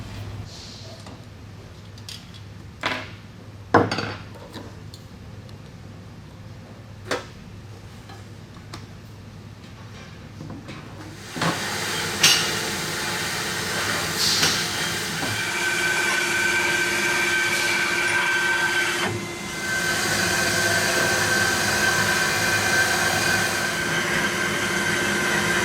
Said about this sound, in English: I'm anxious to get this heater cut apart so I can show you the difference in the element